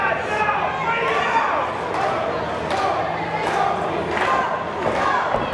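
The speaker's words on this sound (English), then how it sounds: "As this crowd rallying a bit behind Garcia" A wrestling crowd at an independent pro wrestling show cheers and shouts in swelling waves, a loud, roaring mass of voices rising and falling throughout with no clear words.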